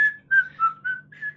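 A person whistles a tune during a Dungeons & Dragons session, five short clear notes in a quick, close, bright phrase.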